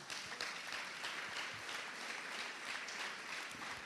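A church congregation at a youth conference applauds together, dense continuous clapping that holds at an even, fairly loud level from start to finish with no speech over it.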